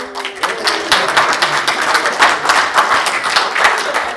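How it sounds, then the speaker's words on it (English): An audience at a labour history presentation claps steadily and fairly loudly, a close, even wash of many hands with a voice faintly audible at the start. "you can clap all you want, but you still got to sing."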